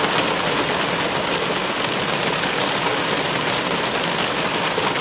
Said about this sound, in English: It's raining so hard, it's brighter than noon